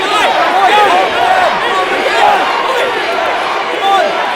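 A roaring arena crowd at an MMA event chants for fighter Ethan Goss, a loud, dense wall of voices rising and falling in rhythm, with excited shouts mixed through.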